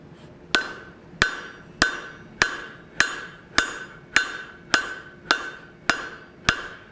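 Hot steel is hammered on the horn of an anvil while forging a hammer, eleven sharp metallic strikes landing at an even, steady pace, each ringing briefly before the next blow, with no voices.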